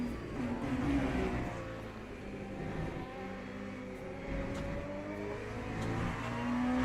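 An ELMS LMP2 race car's engine in the video game Le Mans Ultimate, a sustained mid-pitched drone that rises and falls as it revs through the gears, steady and prominent with no talking.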